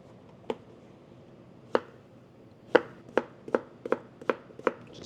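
Knife chopping zucchini on a cutting board while preparing Korean doenjang jjigae: about nine sharp, close chops, widely spaced at first, then a quicker, steady run of cuts.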